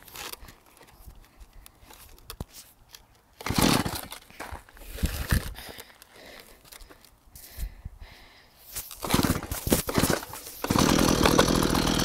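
A Stihl MS 170 chainsaw being started and run, heard up close as bursts of loud rasping engine noise between quieter handling sounds and pulls, ending in a sustained buzzing run.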